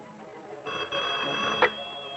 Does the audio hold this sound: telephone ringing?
yes